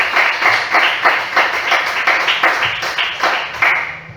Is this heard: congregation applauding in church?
yes